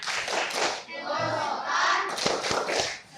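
A sixth-grade class claps a patterned rhythm chant in an elementary classroom, bursts of hand claps alternating with children's voices.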